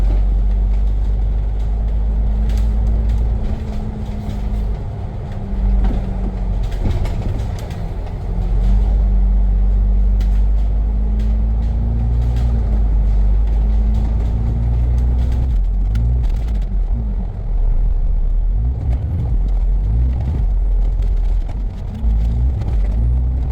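Buses turn and brake on a diversion onto Cashew Road in Singapore, with a loud, continuous engine rumble, shifting tones as the vehicles slow and turn, and scattered brake and road noises.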